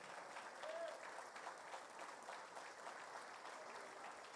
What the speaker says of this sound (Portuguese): Dá uma salva de palmas para o Senhor.